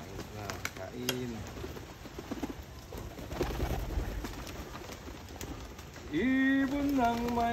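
Pet pigeons coo and call near the mic at feeding time, short soft calls scattered over rustling and handling noise, with a clearer run of rising calls toward the end.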